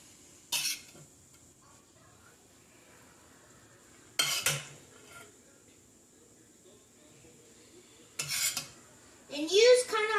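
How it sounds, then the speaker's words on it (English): Meat being mixed into lasagna sauce in a medium-sized bowl, with a few brief clinks and scrapes of a utensil against the bowl separated by quiet pauses, with a short moment of speech near the end. "So you're just going to put your meat into the sauce."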